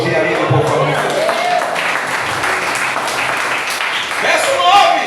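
A church congregation applauds during a worship service, a steady wash of clapping with voices mingled in.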